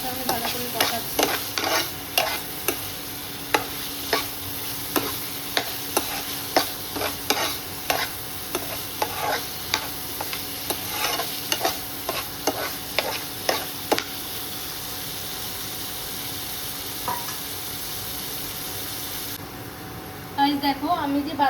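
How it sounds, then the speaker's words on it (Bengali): Fried potatoes are stirred with spices in a pan for a cabbage dish, a spatula scraping in rapid regular strokes over a soft steady sizzle that goes quiet near the end. "এই মশলার সঙ্গে আলুটা একসঙ্গে ভালো করে কষাচ্ছি"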